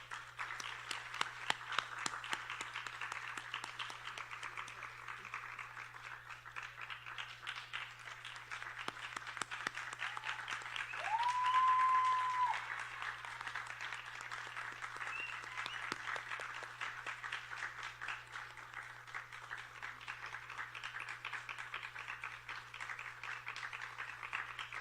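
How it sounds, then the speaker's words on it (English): A live audience claps steadily at a dance recital, welcoming a performer onto the stage, with a sustained moderate wash of applause that swells briefly midway and continues evenly throughout. "I'd like you all to welcome her on stage with a round of applause."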